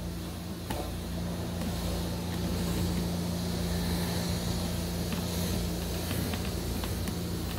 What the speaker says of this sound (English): the wife is literally right outside the window pressure washing the patio off